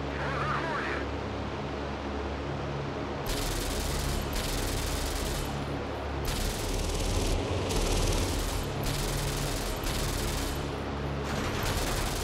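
Aircraft gunfire in the IL-2 Sturmovik flight game aboard a Lisunov Li-2 cargo plane, bursts of rattling fire coming in several long stretches over a constant loud engine drone.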